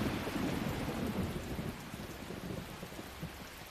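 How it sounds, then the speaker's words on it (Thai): Steady rain falls with low thunder rumbling beneath it, a dense continuous wash that eases slightly toward the end, with no voices. "อีกสักพักฝนอาจจะหยุดตก"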